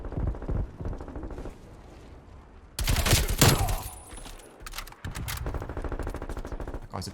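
Sustained automatic fire from an AK-47 in Call of Duty: Cold War, with long loud rattling bursts, a short pause and then another continuous stream of rapid shots.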